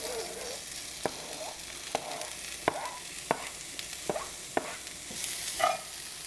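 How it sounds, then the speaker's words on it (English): Spaghetti with black olives is stirred in a pan, the utensil knocking sharply about every half second over a faint sizzle, with no talk. "Now you add the olives."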